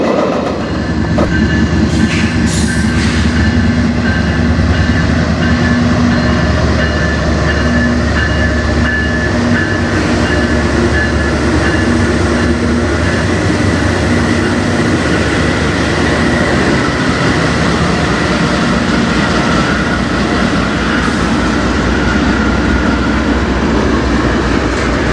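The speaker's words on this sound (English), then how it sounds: "There's our train." CN freight train passing on the Strathroy Subdivision, a long continuous loud roar of rolling railcars with rhythmic wheel clatter and faint squealing tones, close by and without speech.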